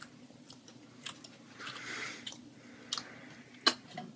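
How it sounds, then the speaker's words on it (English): Someone chews a mouthful of dry cat food, producing soft crunching and squishy bites with a few sharper cracks, close and quiet with no talking. "I guess I have to eat a handful of cat food now."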